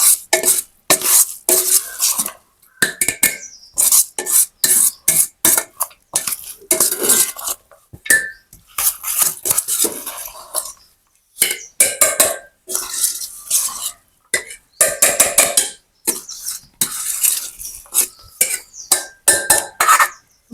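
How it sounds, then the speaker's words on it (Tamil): Tamarind rice is mixed by hand or ladle in a pot in a village kitchen, making loud bursts of wet, sticky stirring and scraping with clinks of metal, separated by short quiet pauses. "நல்ல வடிவா கலந்து எடுத்தாச்சு."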